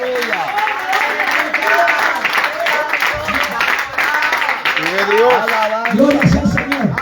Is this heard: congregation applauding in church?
yes